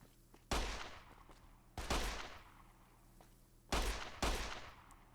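Four sharp pistol shots in a Fallout mod battle, spaced irregularly with two close together near the end, each ringing out and decaying against a quiet background.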